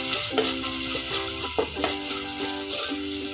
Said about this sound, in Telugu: కొంచెం సేపు ఇలా కలుపుతూ ఉంచండి.